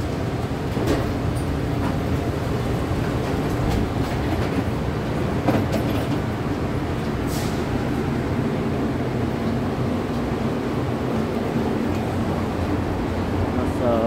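AirTrain automated people-mover at San Francisco International Airport rolling along near a rental car station, a steady continuous rumble with rail clatter and occasional squeals, close and sustained throughout.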